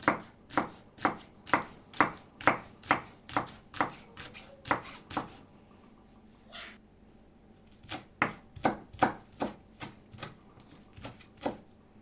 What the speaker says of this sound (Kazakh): Көк пиязымызды жақсылап майдалап турап шығамыз.